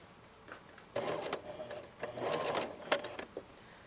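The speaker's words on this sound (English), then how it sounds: "so now I'm going to try to sew on it" A sewing machine stitches a decorative line on a pants mock fly in several short, faint bursts of rapid mechanical chatter, with brief pauses between runs.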